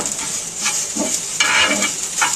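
Potatoes with neem leaves fry in a pan, a steady bright sizzle with scraping stirs and a few louder hissing swells as the food is turned, close up and with no talk.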